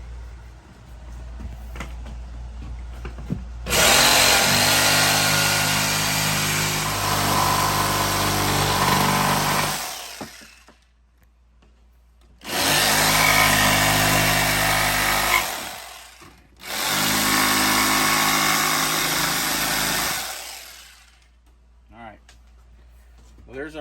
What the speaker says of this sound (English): I'm going to take my little jigsaw and we'll cut that out